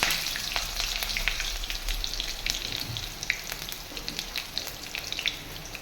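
Potatoes fry in a pan with a close, continuous crackling sizzle dotted with small pops throughout, and no voices.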